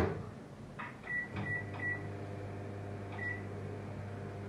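Low steady hum of a microwave oven cooking suji halwa, with a few short electronic beeps sounding over it as it switches off.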